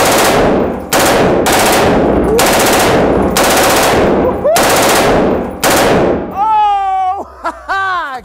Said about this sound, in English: Full auto, where, where, you just pull the trigger, you have that continuous firing